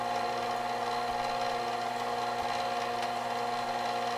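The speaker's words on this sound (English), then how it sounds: "I'm actually just starting to hollow this thing out" A wood lathe hollows the inside of a resin-and-wood-shavings tea light holder dome, a steady close motor whine with tonal hum and a continuous scraping cut running evenly throughout, no voices.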